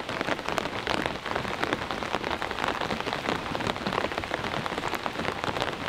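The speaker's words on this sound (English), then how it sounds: "it's pouring rain." Heavy rain pouring steadily onto an off-grid cabin during a storm, a dense constant patter with no pauses, fairly close and loud.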